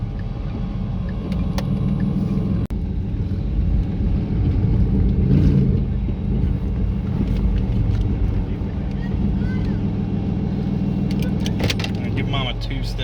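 A car fitted with an AMR turbo kit and an automatic transmission holds a steady, heavy engine rumble while people talk nearby.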